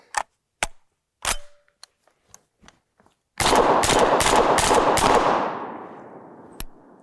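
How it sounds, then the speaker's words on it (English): A cheap semi-auto bullpup 12 gauge shotgun fires double-aught buckshot: a few small clicks and handling taps, then one loud, close blast that rings out and decays over a couple of seconds. "Let's try some double up buckshot."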